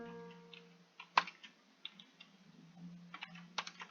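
Lyrics being typed on a computer keyboard, scattered soft key clicks at an uneven pace with one sharper tap, quiet and close.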